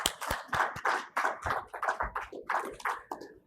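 Applause from a modest panel-session audience at an EV charging event, a run of distinct, fairly close hand claps in an irregular rhythm that gradually thins out.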